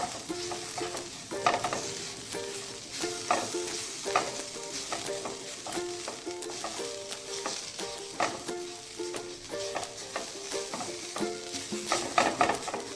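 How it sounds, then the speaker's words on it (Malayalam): Chickpea curry with coriander powder and masala is stirred in a hot pan, a soft sizzle under repeated scraping strokes of a spoon at a steady pace, close up, with no talking. "ഇനി നമുക്കിത് ഇളക്കി യോജിപ്പിക്കാം"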